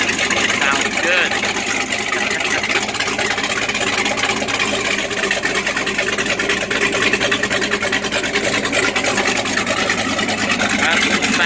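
A motorboat's Mercruiser Bravo XR sterndrive engine idles steadily and loudly nearby, a constant throbbing motor drone with no change in pace throughout.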